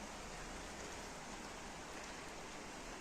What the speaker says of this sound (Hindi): इब्राहिम अब बाहर खिड़की से नज़ारा देख रहा है बारिश का।